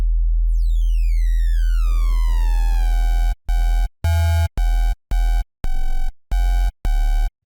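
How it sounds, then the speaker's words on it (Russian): Serum synth's Downsample distortion on a basic-shape oscillator pitched down two: a gritty buzzing tone sweeping down over about three seconds, then a run of short, loud, evenly spaced stabbed notes, with no voice. "давайте послушаем, как звучит Downsample"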